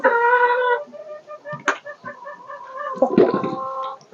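Hens in a coop with straw bedding clucking and cackling up close, a drawn-out harmonic call followed by sharp clucks and a louder burst of agitated squawks near the end.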